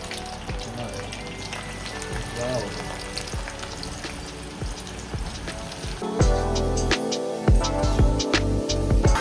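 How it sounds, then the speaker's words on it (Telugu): Onions fry in hot oil while being cooked to golden brown for chicken biryani. A steady, close crackling sizzle runs throughout, with scattered pops and utensil clatter that grow louder toward the end. "so guys onion golden brown colour వచ్చే వరకు ఇంకా ఫ్రై చేసుకోవాలి"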